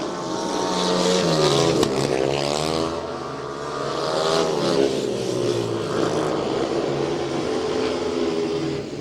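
Speedway motorcycles with big track engines race in a league meeting between Edinburgh and Glasgow, a loud continuous roar of several bikes rising and falling in pitch as they pass close by, with no talk.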